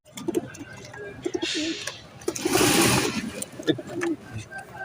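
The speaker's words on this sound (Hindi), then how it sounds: "माशाल्लाह बहुत अच्छा कबूतर है ये" Pigeons coo at a pigeon market at Lahore's Larri Adda, with soft close cooing phrases and rustling bursts between them, while people talk over the birds throughout.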